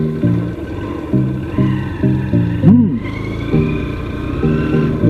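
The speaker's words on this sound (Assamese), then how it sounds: "চাবিটো অন নকৰাকৈ ষ্টাৰ্ট কৰিছিলোঁ বাইকটো" A motorbike engine being started without the key switched on, giving repeated short bursts of cranking and sputtering in a steady rhythm, close and fairly loud, with one brief rising whine midway.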